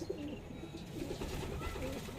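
A pigeon coos softly in low, rolling phrases while its feathers are being plucked, the calls close and fairly quiet over a steady background hum.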